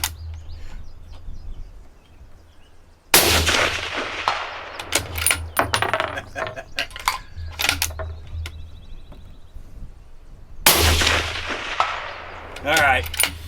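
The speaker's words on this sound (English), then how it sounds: "And I'm gonna record Alan shooting it." Two sharp, loud rifle shots from a 7mm rifle fired at a body armor plate 300 yards downrange, each followed by a rolling echo that fades out, over light wind and background noise.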